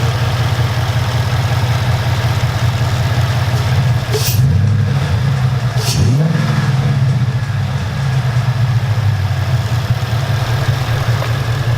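A loud, deep 2011 Ford Mustang 5.0 V8 engine with a cold air intake idles steadily, then gets two quick revs that rise and fall before settling back to a rumbling idle.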